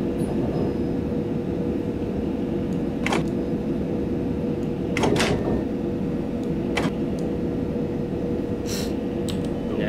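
Train coasting into Ewell East station in the Train Simulator 2020 game, a steady rumbling roll with a faint hum and occasional clicks and clunks, heard alone.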